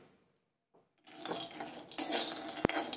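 Almonds roasting in ghee in a kadhai: after a near-silent start, a soft frying hiss rises with metallic scraping and clinking of a spoon against the pan, plus one sharp knock, close by.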